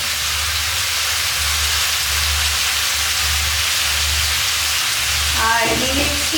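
Loud, steady sizzle from a rohu fish curry with cauliflower frying in a pan as turmeric powder goes in, a broad hiss with a faint pulsing low rumble underneath and a brief voice near the end.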